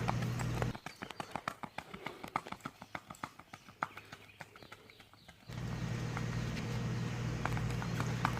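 The hooves of a barefoot gaited Saddlebred mare beat out a quick, even four-beat rack, a close, regular run of clip-clops that stops, followed by a steady engine-like hum.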